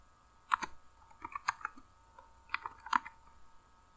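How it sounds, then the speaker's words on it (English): Keys tapped on a computer keyboard while a template name is entered, a few quick clusters of light clicks with short pauses between them, close and fairly quiet, no voices. "Of course, not without typing a name before."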